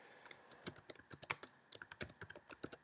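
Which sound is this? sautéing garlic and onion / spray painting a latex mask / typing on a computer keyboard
typing on a computer keyboard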